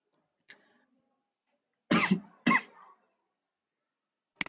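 A person with a cold coughs: a faint catch, then two sharp, close coughs in quick succession, followed by a tiny click in an otherwise quiet room.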